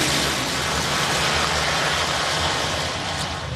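A pack of motocross bikes revs hard at the start line of a race in Texas, a dense, loud, continuous engine roar that holds steady throughout.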